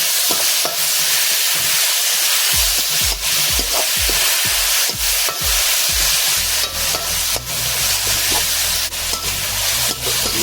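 Chopped tomato sizzles and fries in a hot pan while a spoon stirs it, with steady scraping strokes and bursts of bubbling close by; no one speaks.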